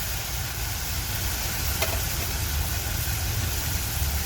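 Wild alambi mushrooms cooking as a vegetable dish, sautéed in a pan with a steady, even sizzle and low rumble throughout, one brief scrape or clink midway, no voices.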